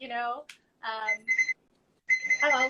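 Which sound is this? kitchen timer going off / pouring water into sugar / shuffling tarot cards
kitchen timer going off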